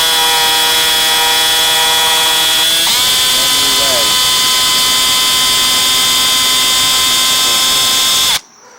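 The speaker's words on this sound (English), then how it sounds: "I have to drill this out" A high-pitched electric drill with a small bit drills out a carburetor jet from a DEK 5650 generator, whining continuously, its tone dropping slightly as the bit bites in, then stopping abruptly near the end.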